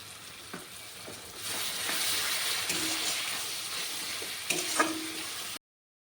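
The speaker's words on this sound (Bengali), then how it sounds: "এখন আমি মশলাটা একটু কষিয়ে নেব। এখানে দিয়ে দিচ্ছি 2 চা চামচ টক দই ফেটিয়ে রেখেছিলাম।" Spiced masala sizzles and fries in a pan with whisked sour yogurt added for a Bengali katla kalia fish curry, a steady crackling hiss that swells after a moment, with a few stirring knocks.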